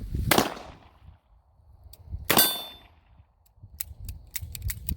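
A revolver fires single action, two sharp loud cracks about two seconds apart with short decays, followed by a run of faint metallic clicks and taps.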